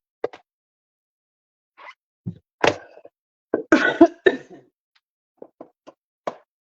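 Several short coughs come in scattered bursts, close and fairly loud, separated by brief quiet gaps.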